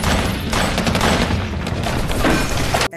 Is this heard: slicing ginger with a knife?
no